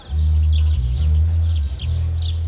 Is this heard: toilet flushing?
no